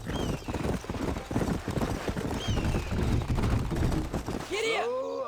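Horse hooves clip-clop at a steady trot along a ranch trail in the western video game Red Dead Redemption, loud and continuous, joined near the end by a rising whinny-like call.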